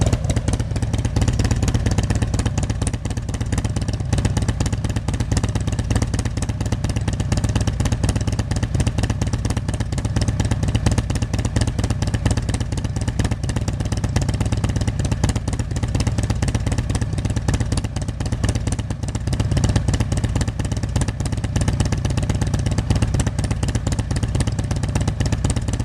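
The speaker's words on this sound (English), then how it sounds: "The bike's already warmed up, by the way, so we're going to be idling at about 900 to 1000 RPM." A warmed-up motorcycle fitted with Andrews 57H cams idles at roughly 900 to 1000 RPM, a steady, loud, close rumble with a lumpy mechanical clatter that holds even throughout, no talking.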